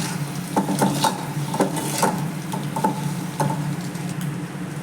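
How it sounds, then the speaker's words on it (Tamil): Food sautéing in oil in a kadai while egg gravy is prepared, a steady soft sizzle under repeated stirring scrapes and light clinks of a spoon against the pan, close and continuous. "சும்மா ஒரு 2 நிமிஷம் இப்படி எண்ணெயில் வதக்கி எடுத்துக்கலாம்."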